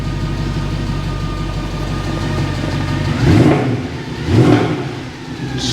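A Nissan Micra 1.0 automatic with rear-end damage runs close by, its engine rising in two distinct revs over a steady idle.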